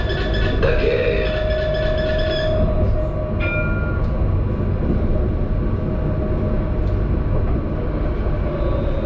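A tram on Mulhouse line L2 between Coteaux and Nouveau Bassin, heard from on board as a loud, continuous rumble of wheels and motor with brief high squeals and tones early on, steady throughout.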